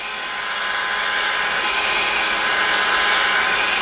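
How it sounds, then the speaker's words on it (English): Heat gun blowing a steady, loud rush of hot air across a sheet of plastic to soften it for bending, a broad continuous whoosh that builds slightly and holds throughout with no talking. "you run the heat gun back and forth across both the front and the back of the piece of plastic"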